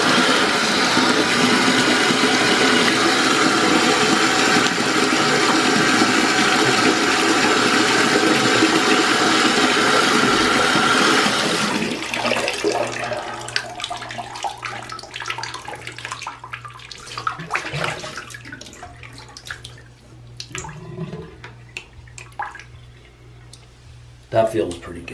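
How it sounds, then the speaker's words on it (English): Hot water pours steadily into a foot bath for about twelve seconds, a loud, continuous rush, then stops, leaving quieter splashes and small water movements. "add a little more hot water."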